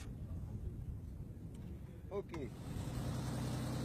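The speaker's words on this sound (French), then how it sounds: "Jean-Jacques Galli, l'organisateur du rallye, prend place dans son aéronef." A light aircraft engine runs at a rally departure from Malaga, Spain: a steady low droning rumble that swells louder in the final second, with brief faint chirps over it.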